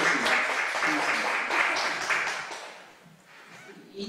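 An audience at a Korean forum event marking the launch of a pilgrimage applauds with dense, steady clapping that fades toward the end.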